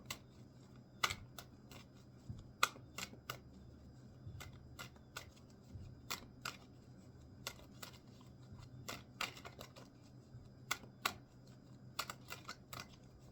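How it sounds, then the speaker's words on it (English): Tarot cards being shuffled in repeated quick riffling bursts, crisp and close, separated by short pauses over a quiet room. "Couple more shuffles."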